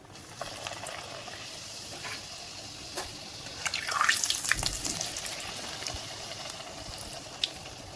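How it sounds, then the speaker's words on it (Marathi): Spinach puri dough hits hot oil and starts frying, a soft steady sizzle that swells into a brighter hiss midway before settling back to a low bubbling, with no talking. "तेल गरम झालंय, त्याच्यामध्ये टाकू आपण आता पुरी."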